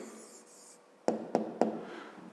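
A pen or pencil writes a short answer on paper. A soft scratch of writing comes first, then three distinct taps or strokes in quick succession. The sound is quiet and close, with no talking.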